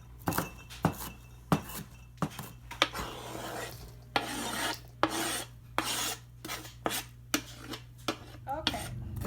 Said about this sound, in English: Nice small dice on this green pepper.